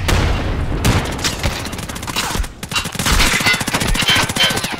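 Loud, dense battle noise from Escape from Tarkov Arena, with grenades going off among rapid bursts of gunfire and booms, a brief lull midway, then more heavy firing close by.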